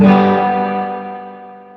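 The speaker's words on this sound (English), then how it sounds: "You hear it ringing afterwards. I'll hit it, kill the strings. You hear it, that's reverb." A G chord struck on an electric guitar through an effects unit with distortion, strings muted right after, leaving a reverb tail that rings on and slowly fades over under two seconds, alone with no talk.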